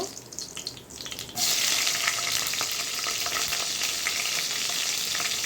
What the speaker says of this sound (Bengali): তেলটা আমার গরম হয়ে গেছে এখন গোটা করে কালি জিরে দিয়ে দেব চার পাঁচটা কাঁচা লঙ্কা দিয়ে দেব